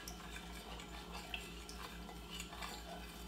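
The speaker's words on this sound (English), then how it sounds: "I use a long spoon. Stir it up there." A long spoon stirs strawberry Jell-O in a pot, giving soft continuous scraping and light clinks against the sides over a steady low hum.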